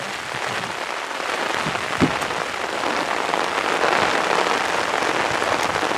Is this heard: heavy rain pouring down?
yes